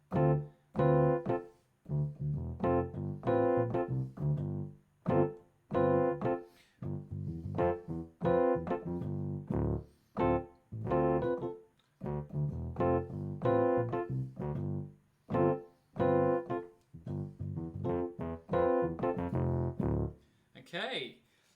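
Funk bass line and comping pattern played together on piano, a steady run of punchy, separated chords and bass notes in a tight rhythmic groove, moderately soft with brief gaps between phrases, no talking.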